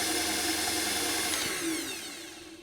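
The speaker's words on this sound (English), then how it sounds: "Give it a little whisk with a hand whisk or an electric whisk" An electric whisk beats full-fat cream cheese for frosting, a steady close motor whir that holds at one pitch and then eases off slightly toward the end, with no talking.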